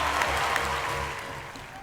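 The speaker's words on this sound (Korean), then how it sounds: "시상식장에는 지금 들으시는 것처럼 우레 같은 박수 소리와 환호성이 터져 나왔고요" Applause and cheering break out in a packed awards hall at the Golden Globes for Parasite, a dense wash of clapping that holds loudly then slowly begins to fade.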